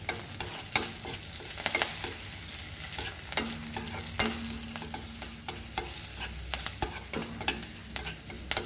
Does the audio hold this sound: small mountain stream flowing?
no